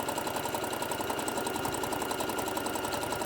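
A sewing machine backstitching a small tote bag, running at a fast steady rhythmic clatter of needle strokes throughout, close and clear with no voices.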